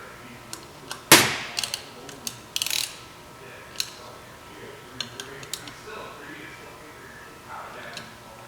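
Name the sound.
tightening intake screws with a 4mm Allen key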